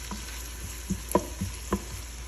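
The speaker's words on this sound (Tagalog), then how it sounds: "Nilagyan ko siya ng oil at inad ko na yung sibuyas niya." Onions fry in hot oil in a pan, a soft sizzle under a few light scraping knocks of stirring, quiet and close.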